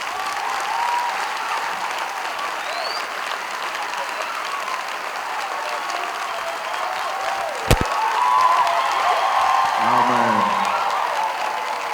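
A church congregation applauding steadily for the whole stretch, a broad sustained wash of clapping with faint cheering and a voice heard over it near the end.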